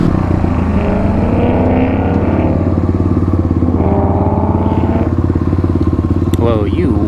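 Kawasaki KLX351 and Yamaha WR250R dirt bikes race, their engines droning loud and steady at high revs with a near buzzing rumble throughout, a brief rising whine near the end.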